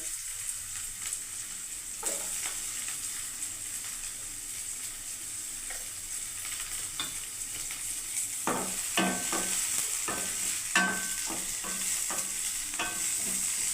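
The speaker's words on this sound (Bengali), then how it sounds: "পেঁয়াজ, অনিয়ন, পেঁয়াজ দিয়ে দিচ্ছি বন্ধুরা এই তেলে।" Onions fry in hot oil in a pan, giving a steady sizzle with intermittent stirring scrapes, moderately close and without speech.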